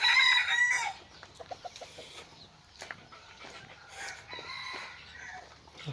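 A caged wild junglefowl and a rooster crow loudly at the start, then soft clucks and scattered chirps follow nearby for several seconds.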